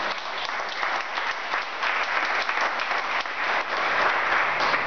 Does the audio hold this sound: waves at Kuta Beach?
no